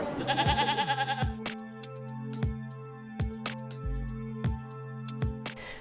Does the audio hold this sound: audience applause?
no